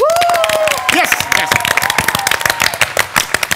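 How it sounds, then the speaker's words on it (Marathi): An audience at a Marathi comedy show applauds, a burst of crowd clapping and scattered cheers following a voice, dense at first and thinning into separate claps. "आता जोरदार सगळ्यांसाठी टाळ्या वाजवा"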